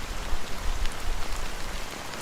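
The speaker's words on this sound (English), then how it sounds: "how long has this rain been going on for?" Steady rain pours in the Honkai: Star Rail video game, a dense even hiss of drops on surfaces, close and continuous with no talk.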